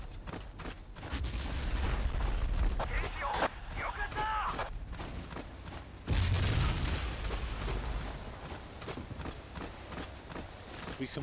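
Anti-aircraft cannon fire in Battlefield 1942, rapid thudding shots in repeated bursts with heavy booms, loud and close, alongside other battle noise.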